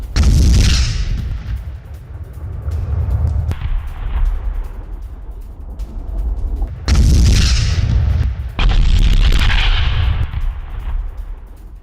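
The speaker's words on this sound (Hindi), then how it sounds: "भीषण बमबारी हो रही है।" Bombardment in wartime Donbas: several loud, close blasts, each a sudden heavy boom that rumbles and decays over a few seconds, spaced irregularly with lower rumbling between them.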